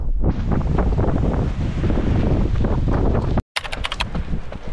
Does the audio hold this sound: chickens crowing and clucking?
no